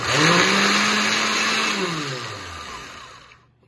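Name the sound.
blender whirling vegan tikka mixture with pink salt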